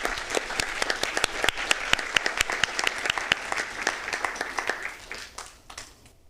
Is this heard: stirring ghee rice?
no